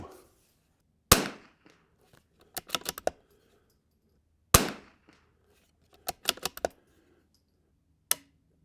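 Rifle shots fired at a target at a range, several sharp, loud cracks spaced apart, each followed by quick bursts of smaller clicks and clatter, with no talking.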